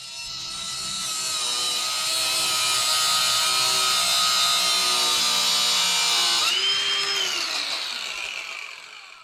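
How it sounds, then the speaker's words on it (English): An angle grinder cutting through a leaf spring center bolt on a Nissan D21 during an add-a-leaf install, a loud sustained high whine that holds for several seconds, shifts pitch near the end and then winds down. "we ended up just cutting them with an angle grinder"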